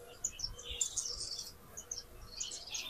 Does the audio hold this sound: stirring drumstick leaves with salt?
no